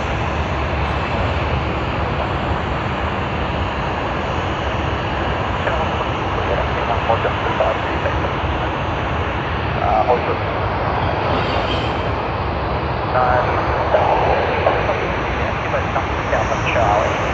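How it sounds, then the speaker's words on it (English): Dash 8 airliner starting its takeoff roll at Sydney Airport bound for Canberra: a steady, loud broadband engine roar that holds throughout, with no talk. "Sydney to Canberra on the Dash 8. We're able to see them. They've just begun their takeoff roll."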